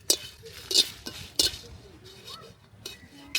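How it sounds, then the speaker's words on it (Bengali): Dry chilies stirred in a pan for pickle, with several sharp metallic clinks and scrapes of a spoon against the pan at irregular intervals over faint background noise. "আচারের জন্য আমি শুকনো মরিচ ভেজে নিচ্ছি।"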